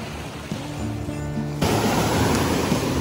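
Ocean surf washes ashore at Puka Beach, Boracay, in the Philippines, a broad, continuous rush that swells louder partway through.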